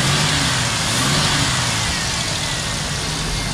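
A BMW SUV idles on petrol with a misfire after standing unused for over a year, giving a steady, close engine drone whose low tone wavers unevenly and never clears.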